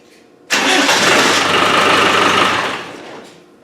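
A stone-cold Land Rover 300Tdi diesel engine catching at once after a short crank and running in a loud, rough clatter close by, then fading off near the end with no talking.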